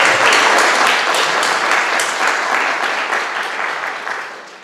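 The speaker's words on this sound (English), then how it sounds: "Let's give a round of applause for Mackenzie." Audience at a county council candidate forum applauds for a student, loud dense clapping that gradually tapers off toward the end, with no speech over it.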